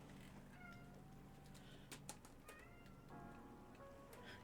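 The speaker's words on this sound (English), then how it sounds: "You might be able to hear River meowing" A cat named River meowing from behind a closed door, several muffled, drawn-out cries at moderate distance against a quiet room background.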